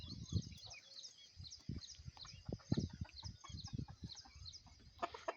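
Native country (gavthi) roosters, including a breeder cock, crow and cluck in a farm setting, the calls faint and distant, overlapping in irregular bursts across a few seconds.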